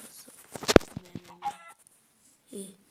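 Minecraft chickens cluck in a few short, scattered bursts separated by quiet pauses.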